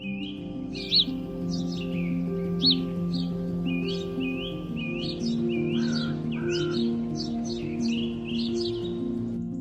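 Kalaw bird calls in a wild African setting: repeated chirping notes, several close together then a busier stretch of overlapping calls, heard clearly over a steady low background.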